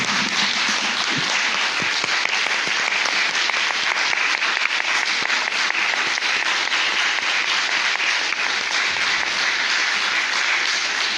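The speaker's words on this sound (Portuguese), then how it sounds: "te aplaudimos, Pai, pelo Teu santo nome" A church congregation at a worship service applauds together in a sustained, dense round of clapping that fills the room at an even loudness from start to finish.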